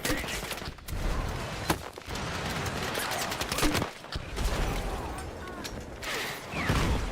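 Dense, continuous gunfire from enemy emplacements in a Battlefield video game battle, with sharp bursts and crackling shots layered over a busy combat din, loud throughout the whole stretch.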